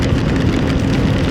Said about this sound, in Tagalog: Walang tigil po ulan oh.